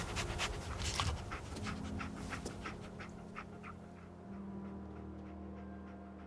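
Dogmeat, the dog companion in the video game Fallout 4, pants in quick, steady breaths up close, with a low game ambience humming underneath.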